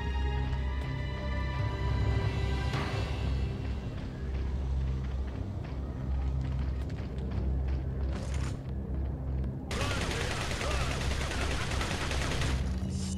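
Gunshots in the game Resident Evil 4 ring out over a rumbling, busy game soundscape. A dense burst of firing comes near the end, with scattered shots and mechanical noise before it.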